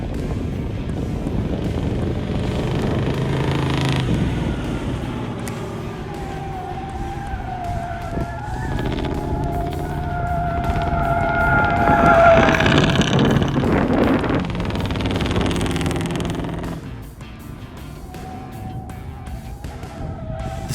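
A 1976 Chevy Camaro engine roars and climbs through revs while racing a 2018 Camaro on track, a loud droning note rising and swelling before easing off near the end.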